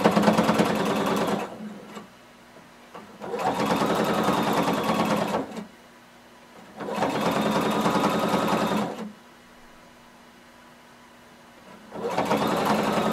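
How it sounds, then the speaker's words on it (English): Edge stitching around jumpsuit pant legs on a sewing machine: four even, close bursts of steady motor hum, each lasting a couple of seconds, separated by quiet gaps. "I'm going to stitch close to the edge, all the way around"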